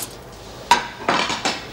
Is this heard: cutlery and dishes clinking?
yes